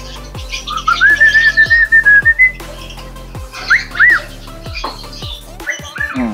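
A cockatiel whistles a series of short, bright rising and falling notes up close, with a pause between bursts and soft background knocks and rustling.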